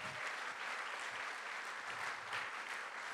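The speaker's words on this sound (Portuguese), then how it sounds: "Pode aplaudir, pode aplaudir" A church congregation applauds during a sermon, dense continuous clapping at a fairly soft level, even and unbroken across the whole stretch.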